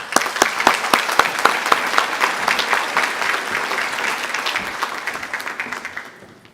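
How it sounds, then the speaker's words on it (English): An audience at a school academic excellence evening gives a round of applause to Nash Central High School honorees: dense, steady clapping that thins and fades out near the end. "please join me in another round of applause congratulating Nash Central High School honorees"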